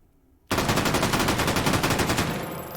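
Rapid burst of shots from an FAL rifle fitted with a muzzle brake in the H3VR virtual reality game, loud and close, starting abruptly after a short silence and running as a sustained string of cracks.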